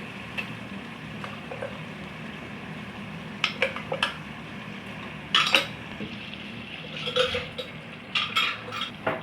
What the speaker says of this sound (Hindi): अब हमने जो पेस्ट बनाई है वो डालते हैं इसमें।